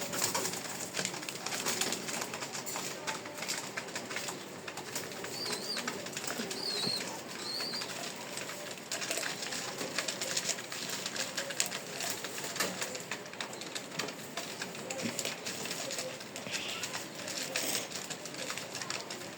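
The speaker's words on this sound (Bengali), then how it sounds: "দেখেন কবুতরগুলো কি সুন্দর করে খাচ্ছে।" Pigeons coo softly while feeding, several low repeated coos close by against a steady rustling background, with no talking.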